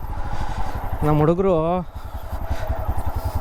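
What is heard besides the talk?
motorcycle ridden on a forest trail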